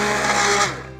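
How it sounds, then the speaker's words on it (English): An immersion blender purees soup in a pot, a loud steady motor whir with a slight pitch shift as it is pressed down and swirled, then cutting off near the end. "I press down, and then swirl it around a little bit."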